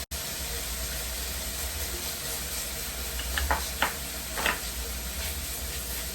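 Finely chopped garlic sizzles in hot oil with onions that have cooked down until translucent, a steady close crackling hiss that runs the whole time, broken by a few brief stirring scrapes partway through.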